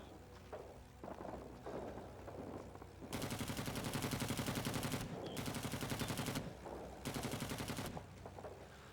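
Automatic gunfire in the Vietnam War shooter Rising Storm 2, three sustained rattling bursts of rapid shots with short pauses between them, preceded by scattered quieter shots and thuds.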